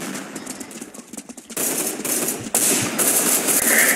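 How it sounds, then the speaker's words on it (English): Machine gun fire in a first-person shooter game: rapid bursts of gunshots that start sparse and distant, then turn loud and sustained in quick rattling volleys. "Oh, that dude has a machine gun."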